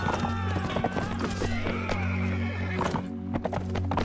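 Horses neighing and galloping in the Mount & Blade Warband video game, with whinnies over continuous clip-clopping hooves in a busy battle scene. A steady droning background runs throughout.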